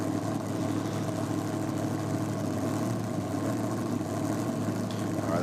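A drag racing car's engine fires up and runs at a steady, loud idle with a continuous rumble that holds for the whole stretch, close by at a championship drag racing event.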